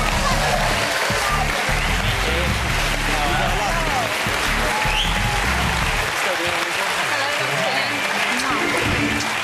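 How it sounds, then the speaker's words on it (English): Sustained, loud applause from a large TV studio audience at a quiz show, continuous and dense throughout with no pauses. "please give a warm round of applause for the couple of the year, Jordan and Peter Andre."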